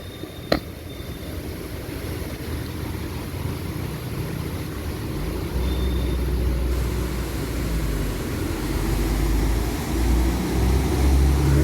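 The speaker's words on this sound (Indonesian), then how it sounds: "kendaraan bus NPM juga sudah mulai lewat di sini" An NPM bus drives along the newly reopened Lembah Anai road toward Padang Panjang. It gives a steady low engine rumble that swells louder partway through, with a brief sharp click near the start.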